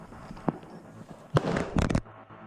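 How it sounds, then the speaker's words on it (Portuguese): Several sharp, loud gunshots: one early, then a dense cluster of rapid bangs near the end, with rustling and movement between them. "Ao nos dirigir para a varredura na segunda casa, somos recebidos a tiros."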